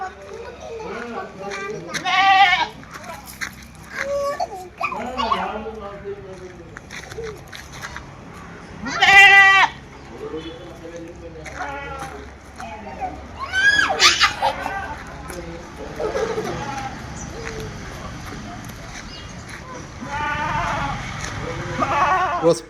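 Crossbreed goats and kids bleat repeatedly at a livestock sale, several loud bleats scattered through the stretch with quieter calls and background noise in between.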